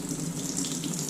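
Steady running water pours into a bowl while rice is rinsed for making onigiri, a close, continuous splashing rush with no talking.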